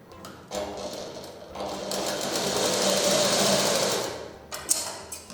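A sewing machine runs steadily, stitching a folded seam along a fabric edge, with a whirring hum that swells and then stops, followed by a few small clicks, close by and with no talk.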